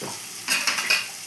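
Onions and green chillies fry in a pan with salt, giving a soft, steady sizzle that brightens and thickens about halfway through as stirring adds a few brief scraping surges.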